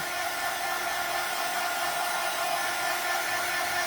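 Hair dryer blowing over a battery-operated candle being aged: a steady, loud whooshing hiss that holds evenly for a few seconds, with no voices.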